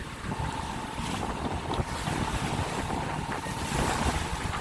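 A 1980 C30 sailboat under way with steady wind and water rush, hull bashing into sizable waves in continuous broadband noise with periodic surges, close and fairly loud, no talking.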